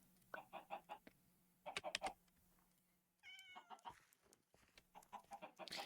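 Minecraft chickens cluck in a coop, with short bursts of clucks repeating close by and a faint background hum.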